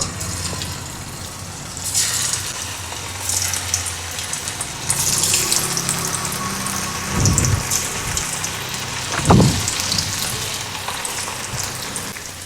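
Marinated cauliflower florets for Cauliflower 65, coated with yogurt, deep frying in hot oil: a continuous bubbling sizzle with occasional louder surges and a couple of dull knocks, close and unaccompanied by speech.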